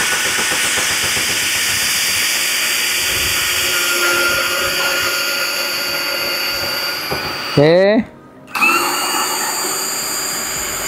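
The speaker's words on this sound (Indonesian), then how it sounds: "Ini bor pertama." An HL Premier 818 cordless brushless drill boring a hole, a steady high whine running continuously, then a rising pitch sweep as the motor spins down, a brief stop and a restart; a voice speaks briefly.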